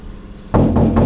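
A single loud, close thud of a van door slamming shut before sound-deadening insulation is added, followed by a rattly, resonant boom that rings and pulses briefly afterward.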